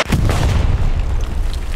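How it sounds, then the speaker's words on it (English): Mortar shells landing in the World War II shooter Hell Let Loose, a deep rumbling artillery boom with a long rolling tail, loud and near, with no talk over it. "We may want to move just for the fact that mortars are landing right there."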